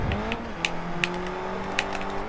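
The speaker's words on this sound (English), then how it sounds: "Love to pop that clutch sometimes." A manual car's engine revs as the clutch is popped, a close rising whine with a few sharp clicks and knocks over a steady motor drone.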